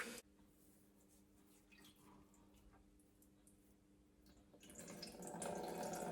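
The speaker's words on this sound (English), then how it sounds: "And you see all that whey coming off." Whey drains through cheesecloth into a colander as a quiet, steady trickle that swells into a louder, gushing pour near the end.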